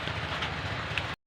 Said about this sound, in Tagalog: Nagtaligsik na gyud.